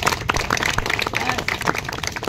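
A crowd gathered at a street magic show claps for a trick, with dense, busy clapping and voices mixed through it the whole time.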